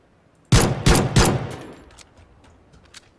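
Three sharp pistol shots in quick succession in Battlegrounds, loud and close, followed by a fading echo and a couple of faint clicks.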